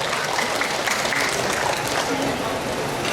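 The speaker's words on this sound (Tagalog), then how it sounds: "Palakpak tayo." Steady audience applause fills a hall at a Dairy Congress in Tagbilaran, Bohol, a dense even clapping sustained throughout.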